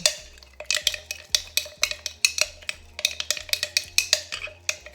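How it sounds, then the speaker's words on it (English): A spoon repeatedly scrapes and knocks inside a container as fenugreek seed, henna, MSM powder and oil are stirred together, making a quick, uneven series of close clinks and taps. "I'm just going to go ahead and stir everything up"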